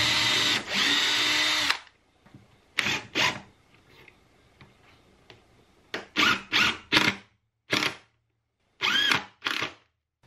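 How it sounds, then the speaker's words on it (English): A power drill pre-drills a hole in wood while a miter saw cart is being built: one long steady whir up front, then a run of short close bursts with quiet gaps between them. "I probably should do a little pre-drill on this to make sure it doesn't go anywhere"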